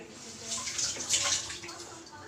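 Chopped capsicum, green chillies and curry leaves being washed in water in a kitchen, a steady splashing and running-water wash that swells briefly in the middle, close by and moderately loud.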